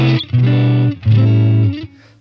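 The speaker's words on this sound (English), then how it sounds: "you're getting those kind of Fendery break-up tones with the vibrato channel" An electric guitar rings out two sustained notes through a modeled Fender Deluxe Reverb's vibrato channel, warm and slightly gritty break-up with a gentle wobble, each note fading before the next.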